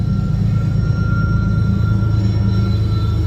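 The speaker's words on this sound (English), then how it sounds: "Okay, this is a mid-engine train." A CSX freight train with three locomotives, one placed mid-train, heading north toward Elberton, Georgia, rolls past as a loud, steady low rumble with a faint high squeal held throughout.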